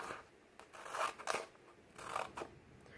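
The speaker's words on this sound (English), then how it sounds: "So I'm going to use my scissors and start at the fold, right at that middle. I'm going to cut straight up." Scissors snip through paper, starting from the fold, for a paper weaving craft; several close, crisp cuts come in quick succession, with faint room noise between them.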